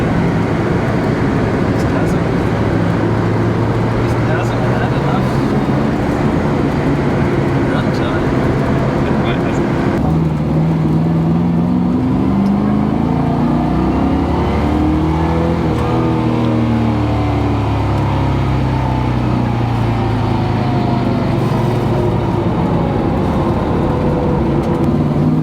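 Pontiac Firebird car engine running and revving in several rising and falling surges, fairly close and loud, with people talking over it throughout.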